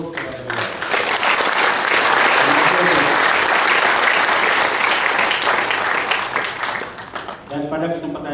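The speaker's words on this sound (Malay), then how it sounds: "marilah kita berikan sekali lagi satu tepukan yang berpuluh kepada beliau." Loud, sustained audience applause at a convocation ceremony, a dense crowd clapping that swells and holds before tapering near the end, where a voice begins speaking over a public address system.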